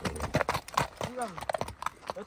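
A horse for sale at a market clip-clops in quick, uneven hoof strikes close by while people talk over it.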